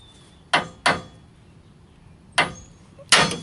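Four sharp metallic hammer blows knocking a tie rod end loose from a car's steering knuckle, two quick strikes then a pause and two more, close and loud in a quiet garage.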